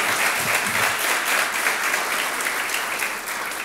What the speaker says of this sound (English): please honor him with another round of applause for what he's done